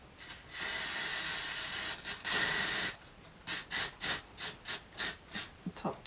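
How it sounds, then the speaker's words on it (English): Hairspray hisses from an aerosol can in one long steady burst, then a shorter blast, followed by a quick series of short rhythmic puffs, close and clear with no voices. "get the hairspray"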